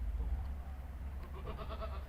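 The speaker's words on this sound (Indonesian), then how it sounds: "Kalau bayi kambing lahir harus dibersihkan dulu ke air ketubannya katanya" Newborn baby goat, one of a set of triplets just born, giving a few faint bleats over a steady low rumble of background noise at a birth in a pen.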